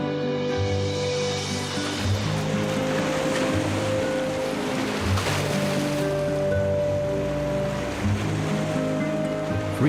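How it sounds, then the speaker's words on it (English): Wind-driven sea churns against the rocky coast of Crete, with waves surging in a continuous loud roar and gusts of wind noise, and no voices. "Frequent western winds cause the sea to churn, carving rugged fjords into the rocks of the island"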